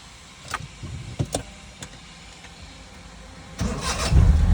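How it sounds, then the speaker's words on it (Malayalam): A car engine is started with a key in neutral: a few soft clicks and switch sounds, then a cranking catch that settles into a low running rumble near the end. "നമുക്ക് വണ്ടി സ്റ്റാർട്ട് ആക്കാം"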